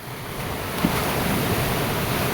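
Sea waves wash steadily onto a Philippine beach with wind buffeting the microphone, a continuous broadband roar with no voices.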